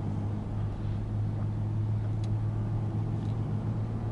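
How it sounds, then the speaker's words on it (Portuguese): Volkswagen Amarok 2.0 bi-turbo pickup with 8-speed automatic accelerating hard to overtake on a highway, a steady low engine drone under constant road and wind noise, heard from inside the cab. "tô dando umas pisadas, tô acelerando um pouco, retomando forte pra ultrapassar"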